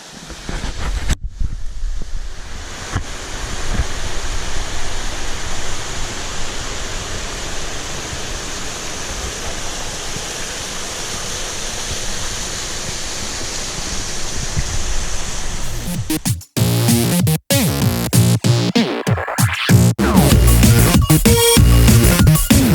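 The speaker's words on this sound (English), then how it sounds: "there's actually a little waterfall back here that not many people get to see" A small waterfall on a privately owned hiking property pours steadily in a broad, loud, continuous rush, with wind buffeting and handling bumps near the end.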